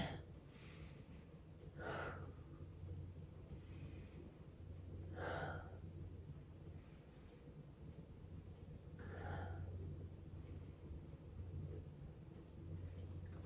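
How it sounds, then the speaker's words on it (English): Three slow, deep breaths taken while holding a yoga pose such as wheel or fish, each a soft airy rush spaced a few seconds apart, close but quiet over a faint steady hum. "Whichever pose you've chosen, 3 deep breaths here."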